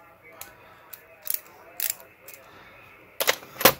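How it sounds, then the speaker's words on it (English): A ratcheting quarter-inch drive nut driver from a yard sale gives several sharp, close clicks in irregular bursts, with short silent gaps between the crisp ticks and a quick double click at the end. "A ratcheting quarter inch drive nut driver."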